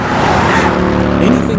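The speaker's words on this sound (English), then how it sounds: "Looks like a staff car coming up the road." A military staff car driving up a road as a comic sound effect, a loud close engine rumble with a brief tire-squeal whine near the end, continuous through the short moment.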